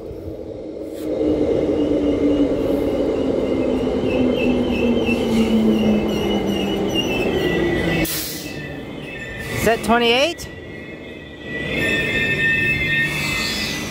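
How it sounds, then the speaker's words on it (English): An A-series suburban train pulls into platform 4 with a long steady rumble and rising whine close by, a brief squeal of brakes and door chimes near the end, and a voice speaking over it. "A series arriving on platform 4."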